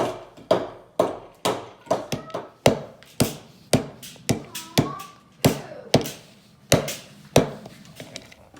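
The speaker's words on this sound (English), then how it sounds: "We're going to go ahead and pound it into smaller pieces." Chalk pounded into smaller pieces for grinding into powder, heard as a steady series of sharp, close taps and knocks, roughly two per second, with brief quiet gaps and faint voices between strikes.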